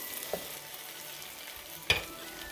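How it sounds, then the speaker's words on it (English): Bread stuffing being stirred with butter in a hot pan, a faint continuous sizzle broken by two brief scraping clicks of the utensil, with no one talking. "Move the butter around, move this around."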